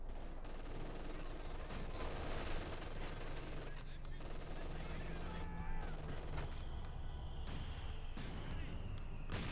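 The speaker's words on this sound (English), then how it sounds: "Mortar back and forth here." Mortar blasts and rattling gunfire fill a Company of Heroes 2 battle between Wehrmacht and Soviet forces. The firing is dense and continuous, with a voice talking underneath.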